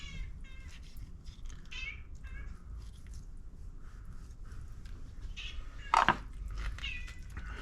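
A cat meows repeatedly close by while turkey giblets are handled during turkey prep, with one sharper, louder cry standing out near the end over steady background room noise.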